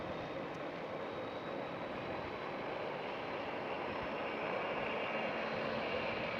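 A Qatar Cargo aircraft taxis across a runway at Schiphol airport, its engines a steady, distant, broadband roar that holds evenly throughout with no voices.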